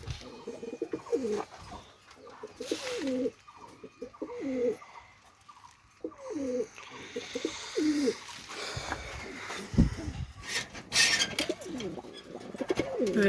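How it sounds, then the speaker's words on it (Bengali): Pakistani teddy pigeons cooing indoors, repeated soft, throaty coos in rhythmic phrases from several birds close by, with some rustling and faint background noise. "আরও কিছু টেডি কবুতর দেখায় ঘরের ভিতরে যেয়ে"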